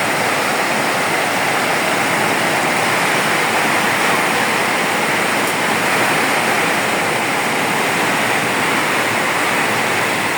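Heavy rain pours down steadily, a dense, loud, unbroken hiss of water filling the whole scene with no voices.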